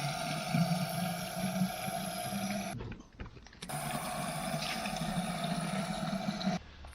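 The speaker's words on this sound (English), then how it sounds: "Can you fill up the water bottles for us?" Water running from a tap into drinking bottles inside a camper van, a steady close hiss of flow with a pump-like hum, cut off briefly partway through before resuming.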